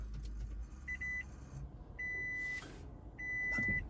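Toyota Prius powering on, with a short electronic beep tone repeated three times at even intervals over a quiet cabin, plus a faint hum and soft clicks.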